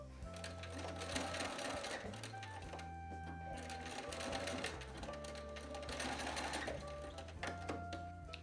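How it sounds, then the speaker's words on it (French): A domestic sewing machine stitches along a cushion-cover seam and backstitches a few stitches at the end, its steady mechanical whir pausing and restarting in short bursts up close. "je vais faire 2-3 points en arrière, et je vais refaire 2-3 points en avant"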